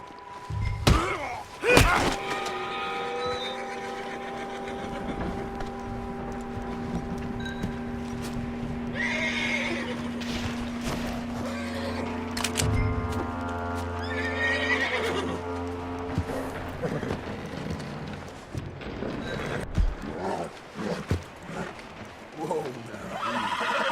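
A horse whinnies loudly near the start, followed by hoof thuds and clip-clops, with game music and occasional talking in the background, in Red Dead Redemption 2.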